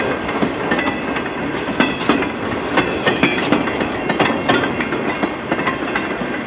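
An eastbound CN freight train passes a snowy crossing in Emmett, Michigan, its wheels beating a loud, steady clickety-clack over the rail joints right up close.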